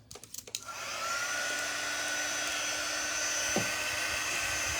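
A handheld dryer blows on a craft bow tie detail, starting after a few brief knocks and then running as a steady, close whirring roar to the end.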